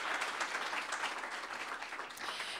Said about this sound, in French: Alors, merci, on vous applaudit.